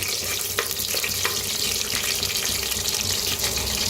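Whole spices, including large cardamom, roast in a hot pan with a dense, even crackling sizzle and a few faint clicks of stirring; close, steady and with no voices.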